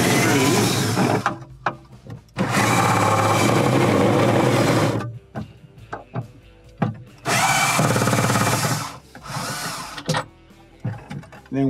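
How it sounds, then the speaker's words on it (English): Two long bursts of a power drill backing out screws from a Hotpoint refrigerator's fresh food section assembly during a defrost timer repair, loud and close, separated by quieter clicks and handling noises. "while we unscrew the front screws"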